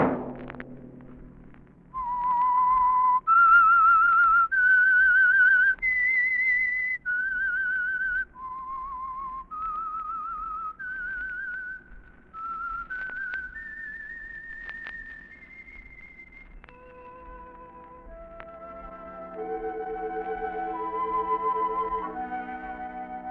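A lone whistled melody, the theme of the radio program The Whistler, rises step by step through a series of held notes, then shifts to a lower, quicker phrase near the end.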